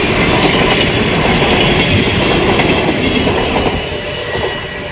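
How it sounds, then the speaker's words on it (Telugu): A train passes a railway crossing in the Netherlands, a loud continuous rumble with clattering wheels close by that fades slightly toward the end. "ట్రైన్ కూడా వెళ్తుంది అన్నమాట."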